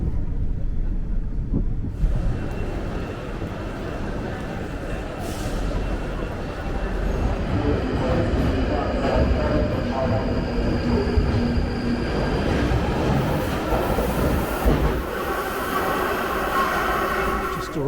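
A train arriving at London Euston railway station, with a loud steady rumble of rolling wheels and carriages, faint squeals and hums layered over it, and the noise continuing throughout.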